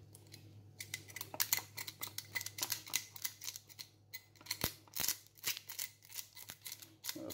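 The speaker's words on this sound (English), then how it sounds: "I'm going to use the small knife just to descale the fish" A small knife scraping scales off a small fish during cleaning, heard as a run of short, crisp scratchy strokes in an irregular rhythm over a steady low hum, close and moderately loud, with no talking.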